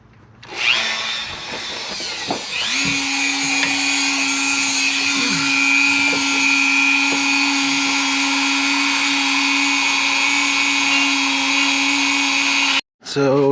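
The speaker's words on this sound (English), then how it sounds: "take what's left of this cutoff wheel and make the Groove deeper" A cutoff wheel on a power tool grinds a groove deeper during a pinion snubber install on a Mazda FC3S RX-7. A loud, steady, high whine holds for about ten seconds after a brief start-up, then cuts off abruptly.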